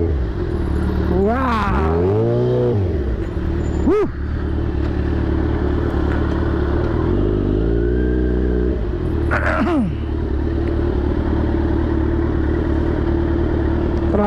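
Street traffic on Lacson Street heard from a big motorcycle stuck in traffic: a loud, steady engine drone close by, with a couple of revving swells from passing vehicles and occasional clatter.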